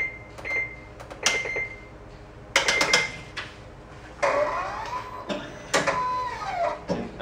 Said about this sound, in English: We'll go ahead and run a nozzle check.